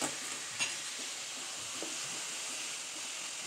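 Bitter gourd frying in oil while being stirred, producing a soft, steady hiss and sizzle with a couple of faint scraping clinks, fairly quiet and without talking.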